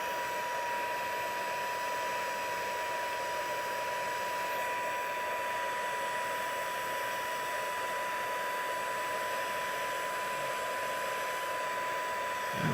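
A craft heat tool blows steadily while melting embossing powder on a gilded art card, a continuous, fairly soft fan-and-heater whoosh with a thin whine, unbroken for the whole stretch, no voices.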